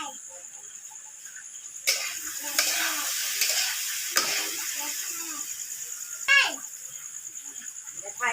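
Fried fish cooks with tomato in a pan on a clay stove, a bright sizzle running steadily with a few sharp knocks and scrapes from stirring, fairly close.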